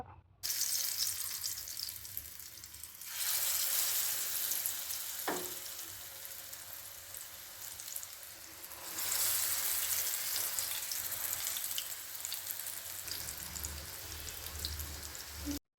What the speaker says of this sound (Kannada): ಇವಾಗ ನೋಡಿ ಬದನೆಕಾಯಿ ಮಸಾಲ ತಂದಕ್ಕೆ ಹಾಕಿದಾಗ ಎಣ್ಣೆಯಲ್ಲಿ ಚೆನ್ನಾಗಿ ಬೇಯ್ತಾ ಇದೆ